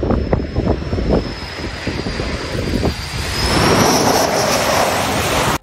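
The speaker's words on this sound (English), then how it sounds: "This fighter jet landing on an aircraft carrier in front of a crowd." A fighter jet landing on an aircraft carrier in front of a crowd, its engine a loud, continuous roar with a rising whine, joined by rushing wind and sea noise, and no talk.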